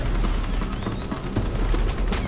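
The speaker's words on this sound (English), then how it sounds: "The VTOL's just gonna shoot him down." Dense, continuous rattling gunfire from a VTOL aircraft in the Crysis Warhead video game, loud and unbroken, with rumbling low end and sharp bursts layered throughout.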